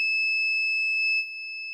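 An Arduino smoke detector's buzzer alarm gives a steady, piercing electronic tone that holds without a break and drops slightly in level partway through.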